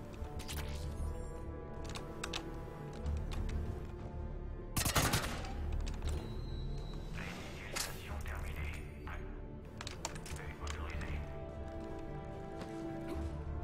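Heavy weapon fire in the video game Mass Effect 3, with bursts of gunshots and sharp impacts over a busy game soundscape and one loud crack near the middle, fairly quiet overall.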